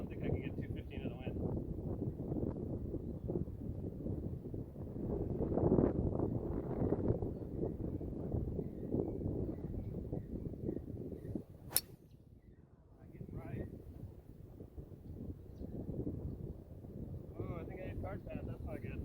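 Wind buffeting a microphone on a golf course, a loud continuous low rumble with gusts that swell and ease, easing near the middle before building again.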